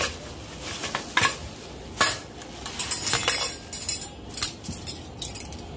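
Metal spoons clink and scrape against a serving dish for kabsa in a home kitchen, a run of bright irregular taps and knocks, close and fairly loud, with no talking.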